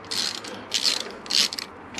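A ratchet clicking as it loosens the shouldered bolts holding the clip-on handlebars to the yoke of a 1998 Kawasaki ZX9R C1 motorcycle, in three short, close bursts of crisp pawl clicks separated by pauses.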